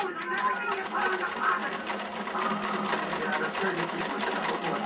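A sewing machine stitches knit fabric with a steady, continuous mechanical whir close by for the whole stretch, and a person talks over it.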